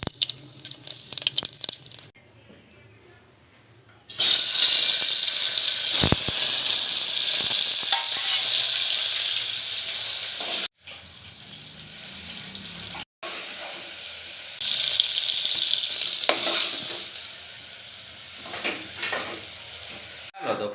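Spices crackle and sizzle in hot oil as the tempering for a stuffed brinjal dish with tomato and potato, loud bursts of frying broken by short quiet gaps, with some faint water-like noise at the start.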